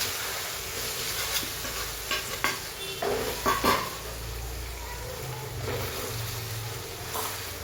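Steamed dhokla pieces tipped into a hot tempering of sesame seeds and asafoetida, a crackling sizzle with a few sharp scraping stirs of a spoon in the pan, then a steady frying hiss.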